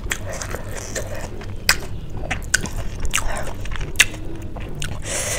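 Big mouthfuls of chilli chowmein noodles, eaten with veg momo and spicy chutney, are bitten and chewed close up, with wet squishy chewing and several sharp crunchy bites.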